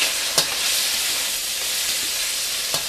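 Tofu sizzling and browning in a frying pan, a steady close hiss of hot oil throughout with a couple of brief sharp clicks of stirring, no talk.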